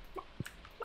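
Chickens on a farm in the Stardew Valley video game give a couple of short, soft clucks in quick succession, faint over a quiet background.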